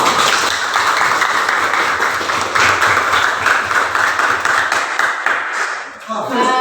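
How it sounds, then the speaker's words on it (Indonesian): A classroom group claps together in sustained, loud applause that fills the moment, fading near the end as a voice begins. "Tepuk tangan untuk kita."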